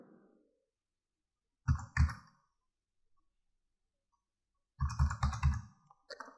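Keys clatter on a computer keyboard as a one-time password is entered, in two short, close bursts of several quick taps separated by a few seconds of silence.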